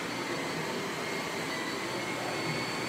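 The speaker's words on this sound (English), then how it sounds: "this vacuum sweeper can take any dirt" Vacuum sweeper running over carpet, a steady, dense broadband whir that stays constant and fairly close for the whole stretch, with no talk over it.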